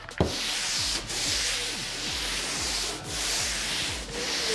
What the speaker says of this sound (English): I have a sander, which I will run over all the walls